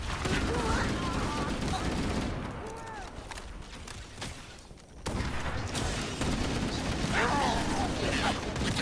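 Dense, continuous gunfire and explosions from the Halo Campaign Evolved video game, with rapid automatic bursts under steady battle noise, loud and close, with a brief dip midway.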